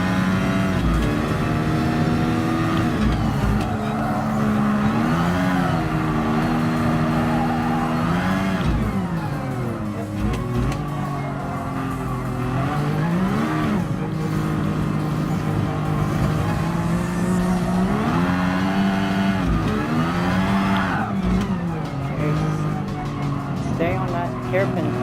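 Ayrton Senna's Lotus 97T Formula One race car at Interlagos in Gran Turismo Sport, its engine loud and continuous, rising and falling in pitch through repeated upshifts and downshifts, with occasional tire squeal and a person talking over it.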